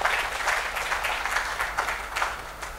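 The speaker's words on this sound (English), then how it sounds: "Let's have a big round of applause for Dr." A conference audience at a healthcare innovation launch event applauds a speaker with steady, moderately loud clapping that holds throughout and never pauses.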